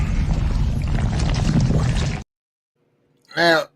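Sound effect of a gooey river of slime in a tabletop roleplaying session: a dense, wet, rushing wash for about two seconds that stops abruptly, then a brief voiced exclamation after a pause.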